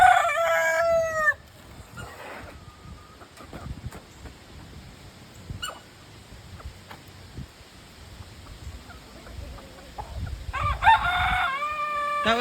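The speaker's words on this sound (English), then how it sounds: "That was one of the AM Samani hens doing that weird squeaky noise." An Ameraucana hen in a homestead coop lets out odd high squeaky calls, a burst at the start and another near the end, with quieter rustling and faint clucks between.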